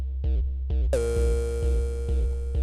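A detuned Retrologue software synthesizer plays two short stabs, then a sustained chord that rings on for nearly two seconds, with its slightly off-pitch tones sitting loud and close with no voices.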